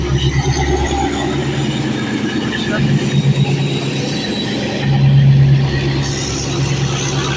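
A DE 24000 diesel freight locomotive rumbles steadily and loudly at Torbalı station in İzmir, with a deeper, stronger tone swelling near the end. Voices talk over it throughout.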